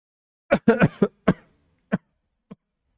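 A person coughing in a short burst of several hacking coughs, followed by two isolated softer coughs, close and clear against silence.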